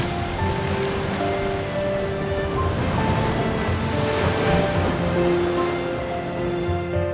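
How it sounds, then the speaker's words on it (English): Atlantic Ocean waves break against tall cliffs on Lanzarote, a continuous roaring surf with rising and falling swells and some wind, heard from nearby. "The uncompromising waves of the Atlantic Ocean break against the majestic cliffs"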